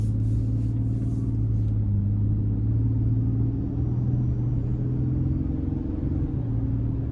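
A 2024 Toyota Tundra Limited Nightshade with the i-Force MAX engine drones steadily while driving, a close, even low rumble with a constant engine hum throughout and no talking.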